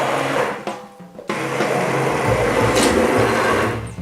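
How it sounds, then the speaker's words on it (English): A blender whirs through butternut squash soup, loud and close, with a couple of brief pauses near the start before running steadily to the end. "So I'm just going to blend up the soup"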